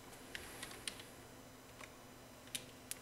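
Faint, sparse clicks of keys being pressed on a computer keyboard, a handful of separate taps over quiet background hiss.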